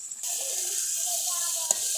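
Fried chopped onions gently stirred in a pot while cooking hilsa polao, giving a steady close sizzle with light scraping, and a sharp clink near the end.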